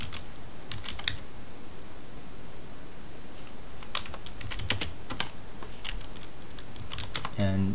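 Fingers tapping out a MakeCert command on a computer keyboard, irregular quick clusters of clicky keystrokes, close and fairly soft against a quiet room background.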